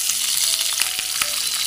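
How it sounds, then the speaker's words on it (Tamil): Small onions, green chilies and curry leaves sauté with cumin in a pan, giving a steady bright sizzle with faint stirring taps, close and unbroken, with no voices. "இந்த வெங்காயம் வந்து நல்லா வதங்கணும். நல்லா பொன்னிறமாக ஆகிற வரைக்கும் நல்லா வதக்கலாம்"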